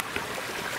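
A mountain river flowing during a family hike, a steady broadband rush and gurgle of moving water, close and continuous, with no voices heard.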